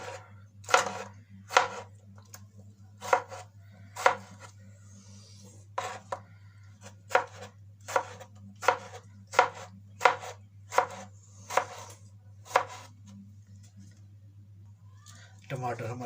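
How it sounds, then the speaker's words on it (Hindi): A knife chopping tomatoes on a board, about fifteen crisp, evenly spaced cuts close by over a low steady hum, pausing once near the end. "अब टमाटर को कटिंग कर लेंगे।"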